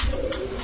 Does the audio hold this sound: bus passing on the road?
no